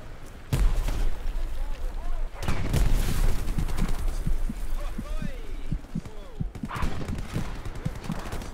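Gunfire in a World War II video game set at Sainte-Mère-Église: sharp shots crack out at intervals amid a rumbling battlefield background while players talk.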